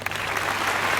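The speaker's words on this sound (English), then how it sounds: "that round of applause is for you." A brief burst of applause, dense steady clapping from a small audience, close and fairly loud for about a second, with no talk over it.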